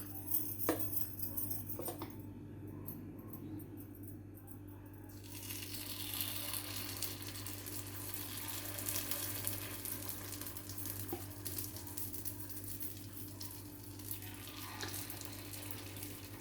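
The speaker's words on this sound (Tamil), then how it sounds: "அடுத்து நம்ம ரெடி பண்ணி வச்சுருக்க இந்த கார பணியார மாவை இந்த குழிக்குள்ளே ஊற்ற வேண்டியதான்" Spicy kara paniyaram batter poured into the hollows of a hot paniyaram pan, giving a continuous close hiss and sizzle with faint scraping, no voices over it.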